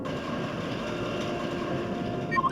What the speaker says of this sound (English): Look at that train coming up on the side.